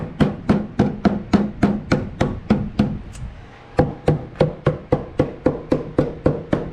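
Steady, evenly spaced hammer taps ring out close by on a beehive frame box, a brief pause midway, then the rhythmic tapping resumes at the same pace.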